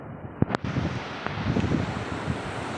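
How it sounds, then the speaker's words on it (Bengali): Steady wind rush with a low rolling wash of surf underneath at Henry Island beach, West Bengal, broken by a couple of sharp knocks near the start; no voices. "জলের ঢেউয়ের আওয়াজটা দেখো বন্ধুরা"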